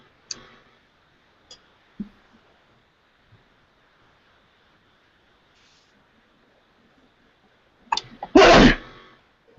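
A single loud, close sneeze bursts out near the end of an otherwise quiet stretch, preceded only by a few faint clicks and taps.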